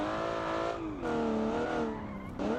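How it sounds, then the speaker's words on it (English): Squealing race car tires in a game of building and racing 1970s sports cars, a sustained strained screech with shifting pitch over engine drone, briefly easing and returning, close and fairly loud. "I love the tortured tire sound."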